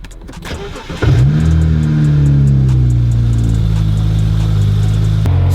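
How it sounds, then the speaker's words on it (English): A BMW E92 335i fires up after a brief crank, then settles into a steady, loud, close idle that holds evenly to the end with no other sounds over it. "So let's go ahead and turn on the car real quick."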